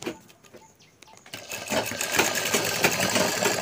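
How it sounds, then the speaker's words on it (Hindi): Electric sewing machine stitching net fabric backed with paper, a steady loud whirring run that starts after a quiet second and continues alone to the end. "मैं अब इसको सिलाई कर रहा हूँ।"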